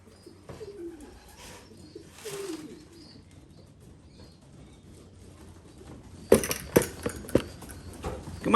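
Racing homing pigeons on a metal roof during a training day: soft low cooing and bird calls early on, then a burst of sharp, loud scrabbling clatters and taps as the birds land and step on the metal.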